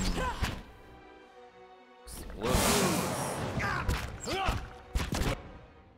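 A loud, rumbling in-game explosion in Pillars of Eternity bursts out after a brief lull, with crackling debris and a few sharp impacts following, and voices talking over parts of it.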